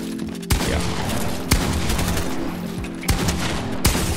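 Gunfire in the video game Fortnite: four sharp, loud shots at irregular intervals ring out over a steady, busy game soundscape, with no talking.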